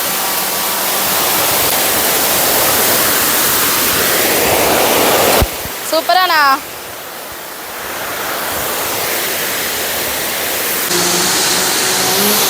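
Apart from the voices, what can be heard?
waterfall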